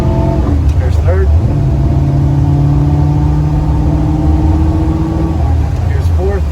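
A 1966 Chevrolet Nova restomod driving in third gear, a loud steady engine drone with rising tones as it accelerates, someone talking over it from inside the car.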